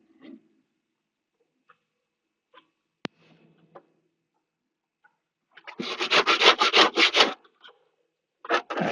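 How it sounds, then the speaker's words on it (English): A rasp scraping in a quick run of rhythmic back-and-forth strokes in the second half, close and fairly loud, after mostly quiet moments with a few faint knocks and clicks. "I use this rasp."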